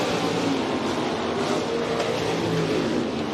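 Race cars roar around the dirt track at Rapid Speedway, a dense continuous engine roar from several cars at once, loud and steady without a break.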